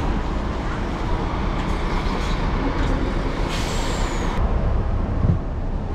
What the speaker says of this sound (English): And here comes trusty Flixbus on time.